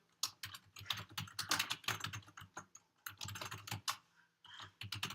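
Fingers type on a computer keyboard while filling out a web form, quick irregular clusters of close, crisp key clicks broken by short pauses, with no voices.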